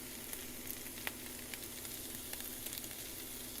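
Ginger garlic paste frying with browned onion in a pan for a salmon curry, a soft, constant sizzle with a few faint stirring clicks.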